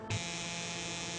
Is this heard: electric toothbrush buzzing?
yes